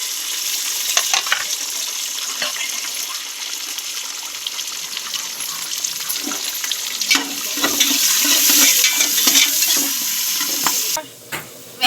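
Onions frying in hot oil in a home kitchen pot for biryani: steady loud sizzling hiss with occasional stirring scrapes and clinks, rising near the end before a brief drop.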